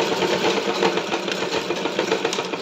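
Sewing machine running steadily while stitching the belt onto a pair of Patiala pants, a continuous close whirring hum with a fine rapid mechanical chatter and no pauses.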